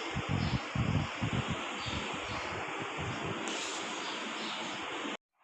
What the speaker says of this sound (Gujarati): ઠંડો ઠંડો પવન આવી રહ્યો છે.